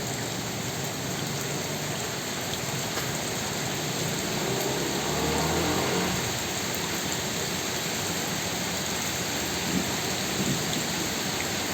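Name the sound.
heavy rain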